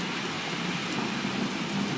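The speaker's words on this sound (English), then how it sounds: "it's raining pretty hard" Heavy rain pours steadily during a thunderstorm, a dense, continuous hiss of water hitting surfaces that stays close and loud with no pauses.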